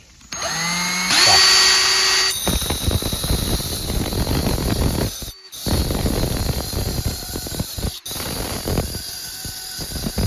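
A power drill whines at full speed while an oscillating saw blade grinds against a blade sharpener, with a loud squeal at first and brief pauses between passes.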